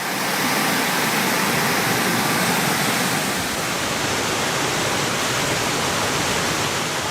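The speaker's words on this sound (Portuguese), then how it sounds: "O rio transbordou em instantes e as ruas se transformaram em rios turbulentos." Floodwater from an overflowing river surges through city streets after torrential rain, a loud, unbroken roar of rushing water that stays dense and steady throughout, close and with no voices.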